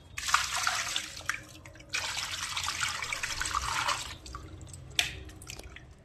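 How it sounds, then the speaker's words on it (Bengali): Running water splashing over raw mutton as it is washed by hand, two long bursts of gushing tap flow with a short pause between, then a few scattered drips and splashes near the end. "এখন আমি এটাকে ভালো করে ধুয়ে নেব।"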